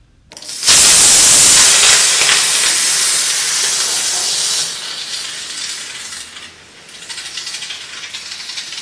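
A pressure cooker cooking khichdi lets out a sudden loud burst of hissing steam, which holds strongly for several seconds and then tapers into a softer, uneven hiss.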